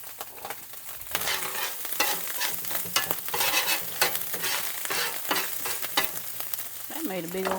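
A big egg fries in a tiny pan, giving a steady close sizzle with scraping and clattering from stirring or flipping, and a brief voice near the end.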